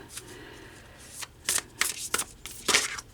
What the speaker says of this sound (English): using our White Light Oracle deck to shuffle